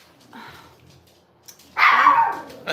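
Dog barking in a home, a faint yip early on and then a loud, close burst of barking near the end, with no talk over it.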